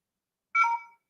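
A single short electronic tone from a phone on charge, a clean two-toned beep lasting under half a second, alone in silence.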